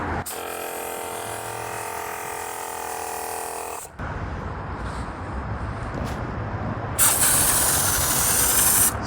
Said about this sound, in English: You can hear the pump stop because it met the required pressure.